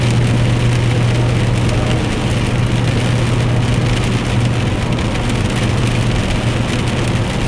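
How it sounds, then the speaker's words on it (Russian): Heavy rain drums steadily on a moving car in Belarus in January, a dense, loud hiss of drops over a low, constant engine and road hum with no voices. "Видите, при таком сильном дожде, как улетают капли."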